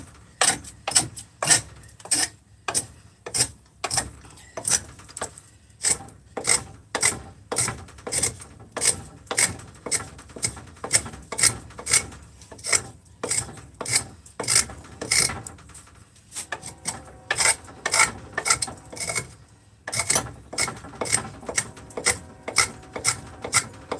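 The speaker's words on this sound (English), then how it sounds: "let's get some more planing done" A hand plane shaves wood while a spoon bowl is being carved, producing a close, steady run of quick rhythmic scraping strokes with brief pauses and no talking.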